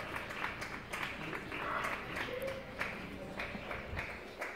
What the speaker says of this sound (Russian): Медикам хлопают.